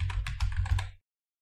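A computer keyboard being typed on to enter a password, with a quick run of about six close, crisp keystrokes lasting under a second before it falls silent.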